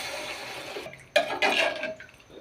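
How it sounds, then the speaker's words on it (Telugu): Water splashes and pours into a pan for egg curry in a short burst after a quiet stretch, with a light sizzle and faint clatter around it. "వాటర్ వేసుకోవాలి"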